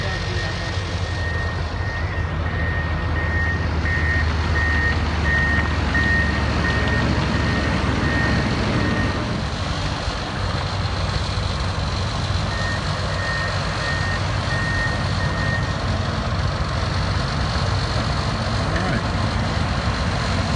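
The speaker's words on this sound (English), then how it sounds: "I'm going to hang around long enough to watch them dump this dirt" Dump truck reversing at a large park construction site, its backup alarm beeping in steady evenly spaced pulses over a heavy diesel rumble and wind, with brief chatter nearby.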